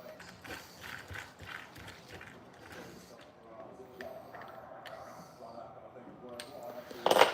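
Wheel hex being tightened onto an RC car, a string of small, close ratcheting clicks and mechanical ticks in an irregular rhythm, fairly faint, with a person talking over part of it and a sharper click at the end.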